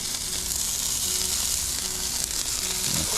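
A steady, close sizzle rises from scallops searing on a Blackstone flat-top griddle, a constant bright frying hiss with faint crackles and a small clatter near the end, no talking.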